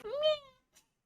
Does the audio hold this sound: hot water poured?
no